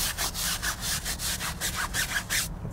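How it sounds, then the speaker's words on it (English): A stiff brush scrubs road grime, grease and old dressings off a car's surface in a close, rapid back-and-forth rhythm of rasping strokes, steady and loud with no talking, stopping just before the end. "we're going to use our nifty brush, starting at the top, scrubbing away any old dressings"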